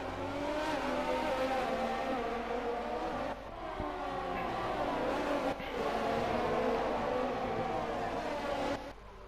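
Formula One race cars, a McLaren chasing a Ferrari, roar steadily down a long straight in the F1 2020 video game, with loud, continuous engine whine broken by brief dips.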